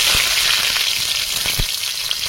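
Dried red chilies and bay leaves crackle in hot oil in a wok, a loud, dense, continuous sizzle close by, with a few soft thuds underneath.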